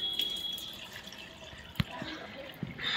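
Plain water is pumped into an empty magic glass at home, heard as faint trickling and a few soft drips with small knocks, quiet and close.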